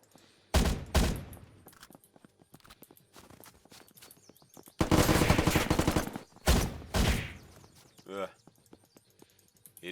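Sniper or FAMAS rifle shots ring out in the video game Unturned, several loud sharp cracks in clusters with gaps between them, while someone talks over the action.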